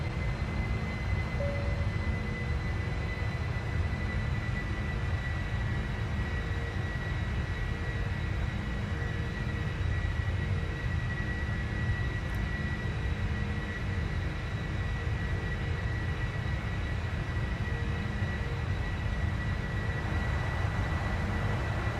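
Airliner engines roar steadily as the aircraft climbs after takeoff from Dallas toward Atlanta in the Prepar3D flight simulator, a loud, unbroken droning rumble with a faint whine and no pauses.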